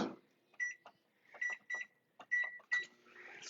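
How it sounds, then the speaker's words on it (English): A microwave oven is set to heat chicken for fajitas, giving a series of short electronic keypad beeps in an irregular rhythm, close and fairly quiet, with low room noise between them. "I'm going to just pop this in the microwave and let that work."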